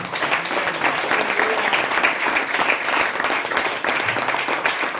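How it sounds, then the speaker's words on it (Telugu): A church congregation at a Christmas service breaks into loud, sustained applause, dense steady clapping from many hands carrying evenly for several seconds with no speech over it. "సంతోషంగా ఉన్న వాళ్ళు ఒకసారి గట్టిగా చప్పట్లు కొట్టండి చూద్దాం."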